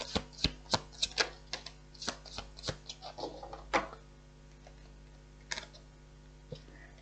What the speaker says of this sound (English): Last shuffle round.